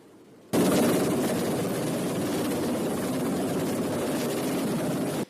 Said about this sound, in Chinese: 救援直升机停伫天顶